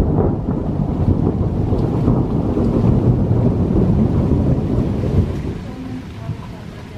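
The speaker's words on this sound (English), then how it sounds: "Let's show them the power of thunder." A low, rolling rumble of thunder during a rainstorm, booming heavily over steady rain and wind noise, then easing off toward the end.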